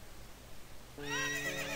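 A horse whinnies sharply in the video game The Legend of Zelda: Ocarina of Time, a bright, wavering neigh that starts abruptly after a quiet moment, with a faint high electronic tone in the background.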